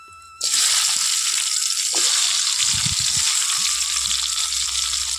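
Raw mango pieces drop into hot oil with lightly fried panch phoron for a Bengali fish tok, setting off a sudden loud, sustained sizzle with a few soft bumps and splashes underneath.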